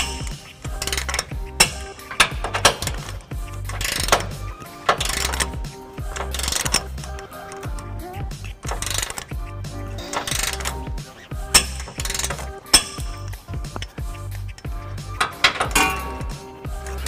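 A ratchet tightens trailer hitch bolts on a 2005 Nissan Titan, giving repeated bursts of quick metallic clicking separated by brief pauses, close and fairly loud.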